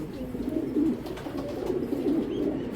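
A pair of racing pigeons of Belgian, Dutch and German bloodlines coo continuously in a low, throaty warble, close and steady with no talk.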